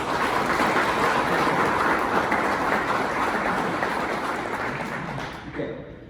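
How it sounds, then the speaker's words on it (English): Audience applause at a Rotary Club meeting, a broad steady patter of clapping that gradually thins and fades toward the end. "Round of applause for Mark and Christy."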